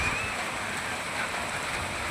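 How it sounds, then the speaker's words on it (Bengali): Rain falling in Tamil Nadu as a steady, even hiss with no breaks or voices over the short stretch. "বৃষ্টি হচ্ছে, দেখো তামিলনাড়ুতে এখন বৃষ্টি হচ্ছে"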